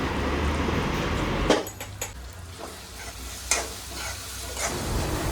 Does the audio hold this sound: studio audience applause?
no